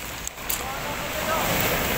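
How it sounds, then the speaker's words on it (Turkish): Rough sea waves churn and wash with a broad roaring hiss, mixed with wind buffeting the microphone; steady and loud from start to finish. "Hırçın bir dalgalar var şu anda"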